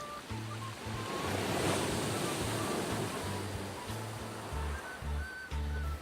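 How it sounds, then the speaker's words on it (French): Sea waves surging up onto the coast as the tide rises, a loud, continuous washing roar that swells in the middle, with a sustained low musical drone running beneath. "La mer monte! La mer monte!"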